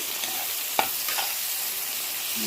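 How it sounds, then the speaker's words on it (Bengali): Fish curry masala with cumin powder and garam masala stir-frying in a pan, giving a loud, continuous hissing sizzle with a couple of brief scraping stirs, close up and without speech. "এবার এতে জিরে গুঁড়ো আর গরম মশলা আমি দিয়ে আবারও ভালো করে কষাবো।"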